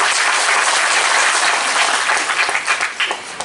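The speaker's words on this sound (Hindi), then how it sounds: "थोड़ा अनिमेश के लिए भी ताली मार दो" A crowd at a political gathering applauds for a former MLA, a loud, close burst of many hands clapping that holds steady and then thins into scattered, uneven claps toward the end.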